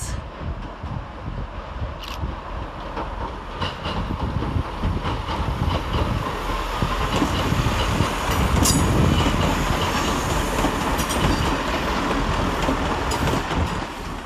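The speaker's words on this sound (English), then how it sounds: "Arriving to terminate with a Chiltern Railway service off of High Wycombe is 165007 and 165028." Two coupled Chiltern Railways Class 165 diesel units, 165007 and 165028, roll into London Marylebone station, a steady loud engine rumble with wheel clatter and brief squeals.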